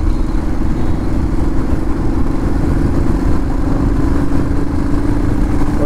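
A motorcycle on a weekend ride out to a lake near Balasore, its engine droning steadily and loud throughout with a continuous low hum and rattle, no talking.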